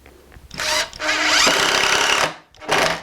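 A power screwdriver with a Phillips bit drives a screw into a wooden acoustic guitar neck joint fixture in a workshop, with two loud close whirring runs, a long one and a short one after a pause.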